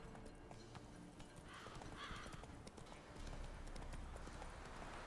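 Hooves clip-clop steadily as a horse gallops up in The Witcher 3 video game, with a brief whinny partway through; the hoofbeats stay close and fairly loud, with no talk over them.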